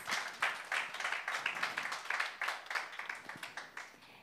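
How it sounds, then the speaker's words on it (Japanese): An audience claps for four groups of high school students after their presentations at a social business contest awards ceremony; the applause is moderately close and swells in uneven, pulsing waves. "素晴らしいプレゼンをいただきました4組の高校生の皆さんにもう一度大きな拍手をお願いいたします"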